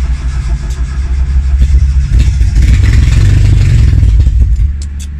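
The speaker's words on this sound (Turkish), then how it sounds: "Bir marş yapacağım bakalım." Starter cranking on a Turbo Tofaş car with a suspected weak battery, a steady low mechanical whir and clatter that builds and holds loud for several seconds, close by, with no speech.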